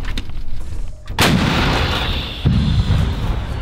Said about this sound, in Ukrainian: Зараз військові ведуть вогонь з гармати М101, це 105-й калібр.